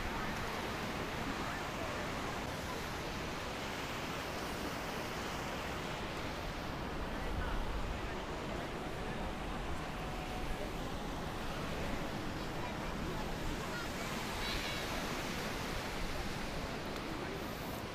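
Steady surf washes continuously onto a beach in Miyazaki, Japan, a broad, even roar with gusts of wind on the microphone throughout.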